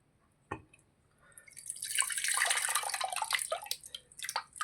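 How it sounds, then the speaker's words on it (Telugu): A lime-sized lump of tamarind is squeezed by hand in water to make tamarind juice for Ugadi pachadi. After a single tap, close wet squelching and dripping start and continue steadily with small splashes. "చక్కగా దీన్ని మనం పిండుకొని చింతపండు రసం చేసేసుకుందాము."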